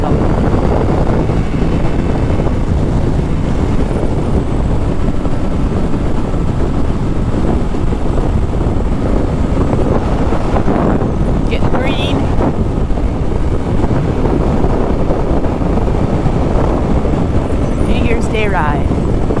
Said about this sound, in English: And I love to ride my motorcycle.